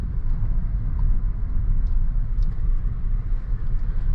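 A 2018 Land Rover Range Rover pulls away on the road, its engine and tyre rumble steady and close, a low continuous drone with faint rattles inside the cabin and no talking.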